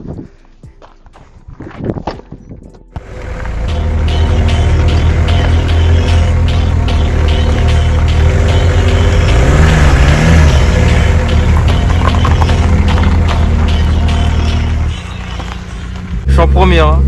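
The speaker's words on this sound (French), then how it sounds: "Le turbo, les gars, il est quand même pas mal, ça sonne bien et ça charge direct." A VW Golf 3 with a 1.9 TD turbo diesel engine accelerating: after a short quiet start, loud sustained engine drone rises and pulls hard, with gear-linked pitch shifts, then eases near the end.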